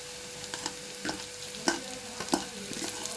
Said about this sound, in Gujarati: હવે નાખશું ડુંગળી, હવે નાખશું આદુ વાલા મરચાંની કટકી ને લસણ।